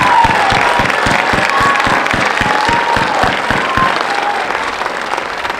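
At a 2022 high school graduation ceremony, a large audience breaks into loud, steady applause with scattered cheers and whistles, and a rhythmic thump runs through the clapping.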